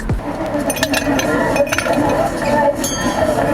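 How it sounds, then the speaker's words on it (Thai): Ice cubes clink and rattle into a glass in a quick burst of bright, glassy knocks, close and loud. "เสียงน้ำแข็งลงแก้วครับ"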